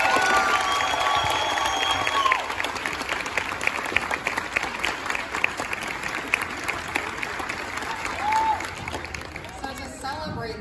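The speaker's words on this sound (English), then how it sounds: "can we give a round of applause for our awesome kids?" Applause and cheering from the audience at a middle school beginner band Christmas concert, a dense steady crowd clapping with scattered shouts and whoops that thins out toward the end.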